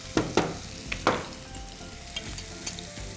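Chopped onion frying in a pan for a stuffed pork dish, a steady close sizzle with a few sharp crackles and stirring clatters near the start before it settles into even hissing.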